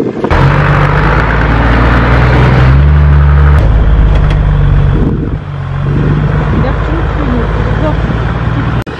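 A car crawls slowly over a rough, uneven road, its loud, close engine droning with shifts in pitch and effort as it works over the bumps, while people talk inside.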